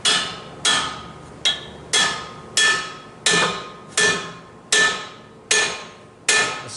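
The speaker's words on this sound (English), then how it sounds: "take his hammer and knock it back that way" Hammer blows striking the driveshaft of a 2003 Yukon during a transfer case repair, nine sharp metallic knocks at a steady pace with ringing decay between hits, close and loud.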